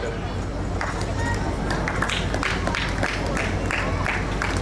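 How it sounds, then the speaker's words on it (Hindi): Dense applause from a school audience at an annual function, a steady mass of clapping with crowd murmur throughout. "तालियों की गड़गड़ाहट कम नहीं होनी चाहिए बेटा"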